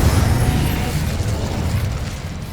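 A fire spell cast in Hogwarts Legacy bursts as a loud, continuous roaring whoosh of flame with deep rumbling low end, sustained and steady throughout.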